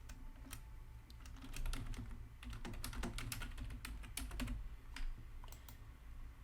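Quick, uneven keystrokes clatter on a computer keyboard as comments are typed, soft and close, in bursts and short pauses with no one talking.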